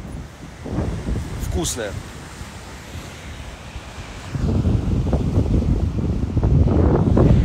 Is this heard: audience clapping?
no